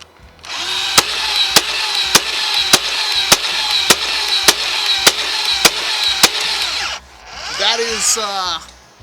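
NERF Dart Tag Speedswarm blaster from 2011 firing darts in rapid succession indoors, about eleven sharp, evenly spaced clacking shots over a continuous mechanical whir, followed by a brief burst of talk.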